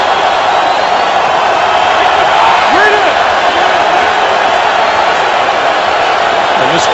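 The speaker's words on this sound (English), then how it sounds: "And this crowd is suddenly alive." A crowd cheers at a Bengals home game against the Patriots: a loud, constant stadium roar that fills the whole stretch, with a commentator talking over it.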